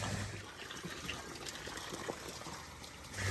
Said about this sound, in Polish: Wypełniamy go do połowy wodą.